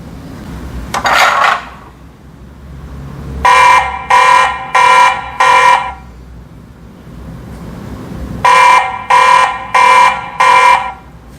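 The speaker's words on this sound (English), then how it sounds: "You can even turn the alarm on or off." The built-in alarm siren of a TP-Link Tapo C200 Wi-Fi security camera sounds loud and close: a harsh electronic ring in two bursts of four pulsing beeps, with a brief rustle before the first.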